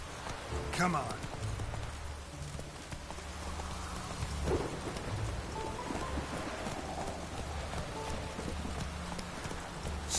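In the video game The Witcher 3: Wild Hunt, steady rain patters throughout with low rumbling thunder, while horse hooves clop along and a voice speaks briefly.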